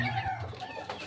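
Backyard chickens clucking nearby, a couple of short, faint cackling calls in a quiet setting.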